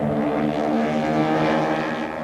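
Army planes roar overhead at the National Air Races in Cleveland, Ohio, a dense, continuous propeller engine drone that stays loud and steady throughout.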